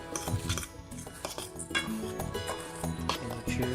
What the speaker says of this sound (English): And now stir them up quick. Get everything covered with the butter.